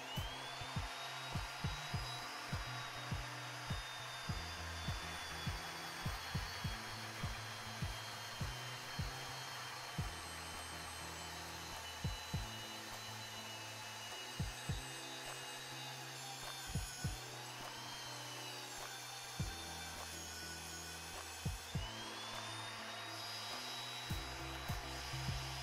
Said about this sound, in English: let's test it out by drilling a 3/4 inch hole into some 1/2 inch plate.